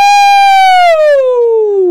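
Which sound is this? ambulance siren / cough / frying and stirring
ambulance siren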